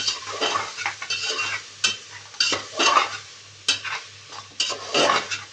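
Spoon stirring masala into mutton in a pan for a Pakistani-style curry, with repeated scraping strokes against the metal in an irregular rhythm, close and fairly loud, while a soft sizzle and a low steady hum run underneath.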